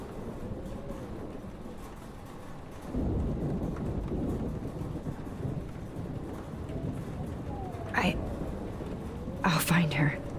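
A Life is Strange thunderstorm with steady rain fills the scene under a low, hushed voice, the rain thickening partway through, followed by a couple of sharp thunder cracks near the end.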